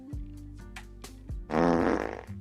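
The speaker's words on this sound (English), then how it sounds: "when Andy pulls my string on my back, most times I fart." A pull-string toy lets out a long, loud, buzzing fart right after a few short thumps and clicks, close and alone with no talking.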